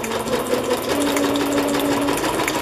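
A home sewing machine runs a continuous straight stitch through fabric while making boho pockets, a steady, close mechanical whir and rapid needle clatter with no voices over it.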